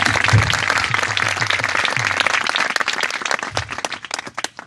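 Applause from an audience at a public speech gathering, a sustained burst of many hands clapping that thins and breaks into scattered claps toward the end.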